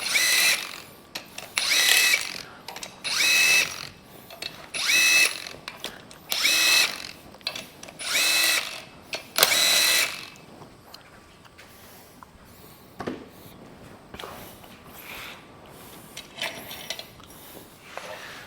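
An impact tool runs at full power to rip head bolts out of a Hemi engine during a teardown, giving about seven loud, evenly spaced hammering bursts up close, then quieter handling noises.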